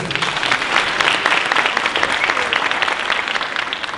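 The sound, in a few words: audience round of applause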